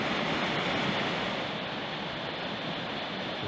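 Lazny waterfall in Skhidnytsia rushes in a steady, loud, unbroken roar of falling water heard up close, with no other sounds over it.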